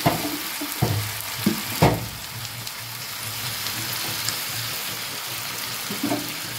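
Garlic tempering poured into a pot of Malabar spinach chorchori cooked in its own juices, with a few sharp clatters early on before a steady close sizzle and frying hiss carries on with no talking.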